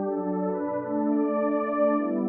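Xenology synth pad in FL Studio playing one soft, sustained chord with a warm, steady tone, fairly quiet and alone with no voices.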